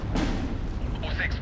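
An artillery shell scores a direct hit in the Steel Division II video game, giving a heavy booming blast with rumbling aftermath, while a voice talks over the explosion.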